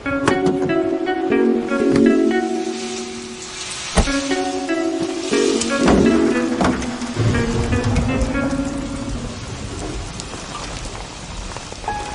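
Dense, loud rain falls throughout a film scene with occasional thunder rumbles and sustained musical tones beneath it. No one speaks.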